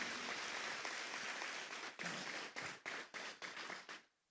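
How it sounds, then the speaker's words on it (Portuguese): Congregation clapping at a church worship event, sustained loud applause that breaks into several short bursts toward the end before cutting off abruptly. "Pode aplaudir o Senhor"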